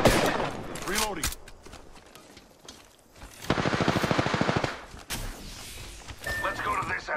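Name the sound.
gunfire in the video game Apex Legends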